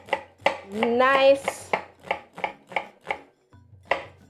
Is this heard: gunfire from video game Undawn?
no